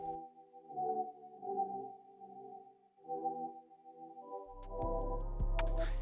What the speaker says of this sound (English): I'm gonna just put a tremolator on it on a half note setting